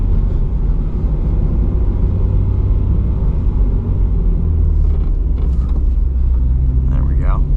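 A Subaru BRZ on all-season tires drives through snow, its engine and road noise forming a loud, steady low rumble up close, with a person briefly talking near the end.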